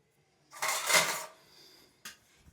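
A plate lifted and handled in a home kitchen, a clattering scrape of crockery and cutlery lasting under a second, then a brief second clink after a pause.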